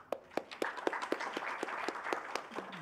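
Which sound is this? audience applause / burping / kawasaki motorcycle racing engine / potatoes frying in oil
audience applause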